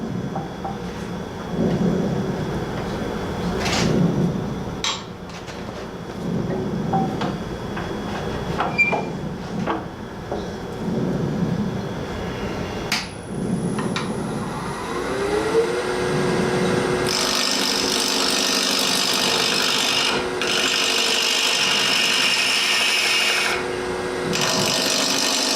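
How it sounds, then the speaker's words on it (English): A bowl gouge cuts into a wooden workpiece spinning on a lathe, giving a rough, scraping rasp with intermittent knocks, then a steadier, brighter hiss of shaving during the later cuts. "First, I'm going to try the bowl gouge."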